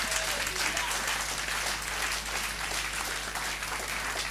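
A church congregation applauds in dense, steady clapping, loud and close, sustained without a break from start to finish.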